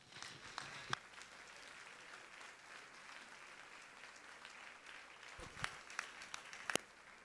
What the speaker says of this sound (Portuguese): Uma salva de palmas para o pregador.